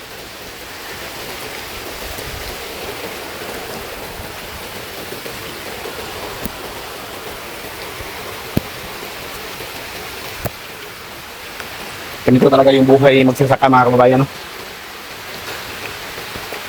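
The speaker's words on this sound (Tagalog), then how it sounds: "Napakalakas ng ulan." Heavy rain pours steadily over a farm field, a dense, continuous hiss throughout, with someone speaking near the end over it.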